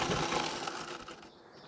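Sewing machine stitching the seat sections of a Marathi-style saree, a brief, fairly loud mechanical whir that cuts off toward the end.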